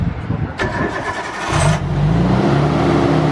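A Mazda Miata that has been brought back to running condition cranks and catches, then settles into a steady, loud, close idle, with people talking nearby over the start.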